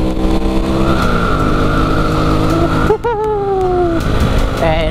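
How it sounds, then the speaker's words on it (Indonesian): A Honda Supra X 100 motorcycle engine revs steadily with a rising and falling exhaust note, then drops and climbs again through quick gear changes, loud and close. "kalian bisa dengar suara knalpotnya"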